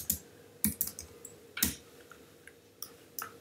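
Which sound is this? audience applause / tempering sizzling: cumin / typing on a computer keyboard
typing on a computer keyboard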